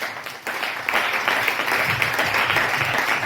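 A church congregation breaks into applause after a brief quieter moment, the clapping building quickly and holding at a moderate, steady level with a lively crowd texture.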